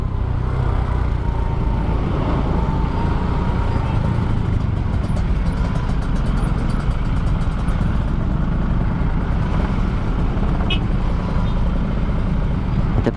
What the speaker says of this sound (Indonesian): macet lagi.